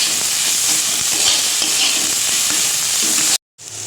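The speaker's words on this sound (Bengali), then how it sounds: "এবার নর্মাল যেরকম নুন হলুদ একটুখানি মিষ্টি এগুলো দিয়ে নাড়িয়ে চাড়িয়ে নেব।" Potatoes stirred with salt, turmeric and a little sugar in a hot pan, a steady sizzle and scrape of frying close by that cuts off abruptly near the end before resuming briefly.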